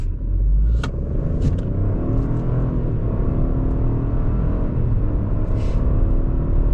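A 2026 Chevrolet Trailblazer LS AWD with a small turbocharged three-cylinder and nine-speed automatic pulls away, its steady engine hum and road rumble heard from inside the cabin, continuous and moderately loud with no talking.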